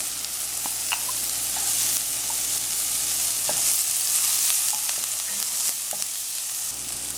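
Onions fry in coconut oil in a pot over low-medium heat for a Trinidadian saltfish dish, giving a loud, continuous hissing sizzle with occasional clinks and stirring scrapes, no voices.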